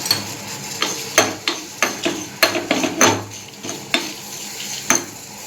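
Three red chillies dry roasted in a pan, with a spatula scraping and tapping the pan in irregular strokes, close up with light crackle between the knocks, no talking.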